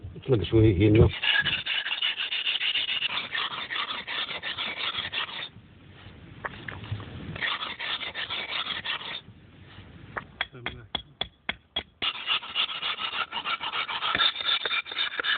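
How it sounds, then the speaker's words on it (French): A file rasps teeth down to an even level, with steady back-and-forth rubbing strokes, a couple of short pauses, and a run of sharp separate scrapes near the end. "lime les dents pour les amener au même niveau"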